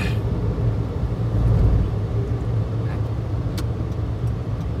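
A Dongben two-seat van truck drives steadily along a road, its engine a low continuous rumble with some road noise, fairly quiet and even throughout.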